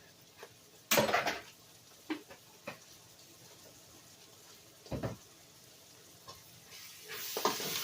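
A teaspoon of minced garlic hits a hot pan for a meat lovers pizza casserole, sending up short bursts of sizzle and clatter between quiet stretches, with a louder sizzle swelling near the end.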